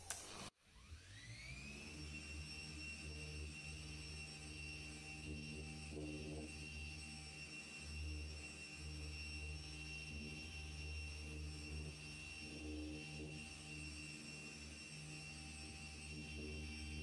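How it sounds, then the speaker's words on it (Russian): A motorized buffing wheel fitted with fur spins against silver coated in polishing paste, starting with a sharp onset and then holding a steady, loud mechanical whine and hum with faint fluctuations as the piece is worked. "Сейчас отполирую тут и покажу результат от этого меха и этой пасты на серебре."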